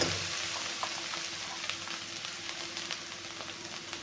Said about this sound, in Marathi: आपल्याला छान एकदम गरम गरम तेलामध्ये छान असा आपल्याला ह्याला तडका जायचे आहे आपल्या मिसळला